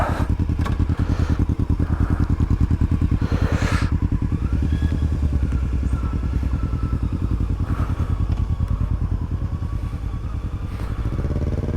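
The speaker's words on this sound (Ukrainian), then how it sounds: "Ще мотоциклісти приїхали, мотобратанчики." Several motorcycles arrive, their engines rumbling steadily and loudly up close, with revving and clattering mechanical noise throughout.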